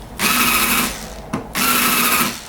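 Power drill countersinking a hole drilled with a 4.5 mm bit in wood, two short loud whirring bursts separated by a brief pause.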